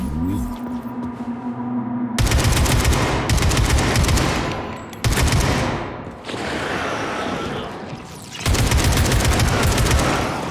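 Sustained bursts of rapid automatic gunfire roar loudly in Atomic Heart, several long volleys separated by brief pauses, dense and close.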